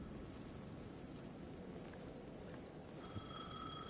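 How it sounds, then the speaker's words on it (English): A payphone rings in Alan Wake 2, its bell faint and arriving only near the end, over a quiet, murky ambient background. "The payphone at the edge of the plaza was ringing again."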